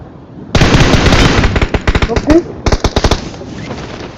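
Rapid gunfire in the battle royale game PUBG, loud bursts of automatic shots with brief pauses between volleys, heard alongside players talking.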